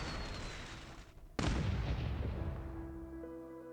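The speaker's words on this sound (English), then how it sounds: "That was an Originium-boosted crossbow bolt." A boosted crossbow bolt fires in the Arknights video game, heard as a sharp, loud boom that bursts over a low rumble and then decays into a long fading tail, with no voices.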